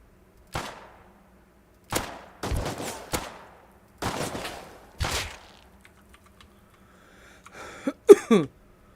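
Gunfire in the survival game Rust: several separate shots and short bursts spaced a second or two apart, loud and close, with a sharp final crack near the end and quiet gaps between.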